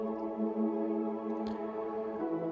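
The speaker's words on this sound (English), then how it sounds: "First we have a pad." A synth pad from a song cover holds a soft, steady sustained chord, smooth and unbroken, fairly quiet and alone.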